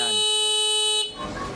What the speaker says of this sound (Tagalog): Hanggat hindi nyo pinipindot yung horn off, hindi titigil yung busina.